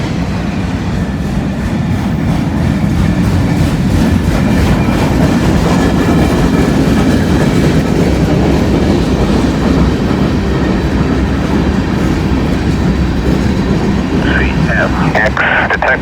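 A freight train hauling loaded auto racks rolls past close by in Glendale, a loud steady rumble with clickety-clack wheel rhythm and a brief squeal near the end.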